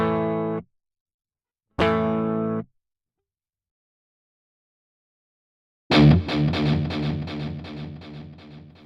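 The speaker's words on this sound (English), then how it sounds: "a typical 80s sound with delay, chorus and reverb" Clean electric guitar notes through a Kemper Profiler ring out, then a strummed passage swells with shimmering, echoing repeats and a washy chorus that slowly decay, a typical 1980s delay, chorus and reverb sound.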